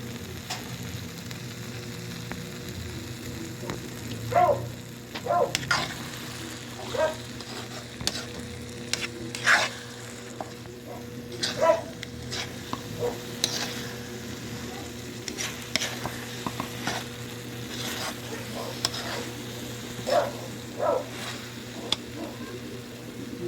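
Alamang shrimp paste frying in hot oil, a steady low sizzle with intermittent sharp scraping clicks of a utensil stirring the pan, close and moderately quiet with a constant background hum.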